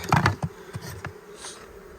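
Honey bees buzz close by near beehives, a brief burst of hovering, droning wing hum that swells and fades in short passes at close range.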